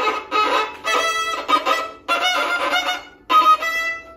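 Violin played with a tight, tense grip, giving a strained, scratchy tone in four separate bowed strokes with short gaps between them, played alone and close.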